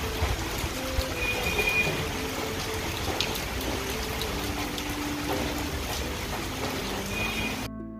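Heavy rain pouring outside, a steady dense wash of falling water and drops on surfaces, continuous and fairly near throughout.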